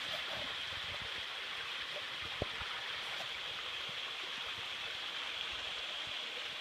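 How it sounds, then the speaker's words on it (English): A free-flowing creek on a trail in Foothills Park, Palo Alto, California, gives a steady, even rush of running water, continuous and moderately quiet, with one faint knock partway through. "Nice to see free flowing water."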